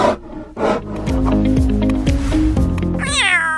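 A cat meows over a backdrop of musical tones, with a rising, wavering cry near the end of the short passage, fairly loud and with no talking.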